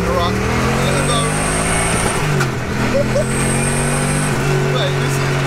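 A home-built 750bhp Lexus LS400 drift car pulls hard in second gear, its engine a loud, sustained droning roar with layered harmonic whine and a brief dip partway through, heard from close by.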